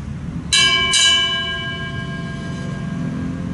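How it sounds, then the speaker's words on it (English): A ship's bell rings twice at a Veterans Day memorial ceremony in a veterans cemetery, two loud clear strikes whose metallic tone lingers and slowly fades over a low background murmur. "The toll of the ship's bell."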